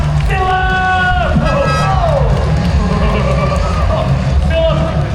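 A crowd cheers and whoops at Sea World, Queensland, a loud continuous roar of shouting and clapping with voices calling out over it.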